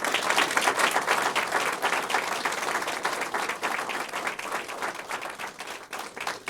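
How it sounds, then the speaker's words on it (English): Audience at a police sergeant promotion ceremony applauding the top three promoted officers, a full sustained round of clapping from a crowd that tapers slightly toward the end. "Let's give them a round of applause just for that."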